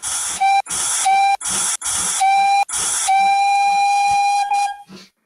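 A steam locomotive on a heritage railway gives five short, loud, close whistle blasts, followed by one long sustained blast with hissing steam.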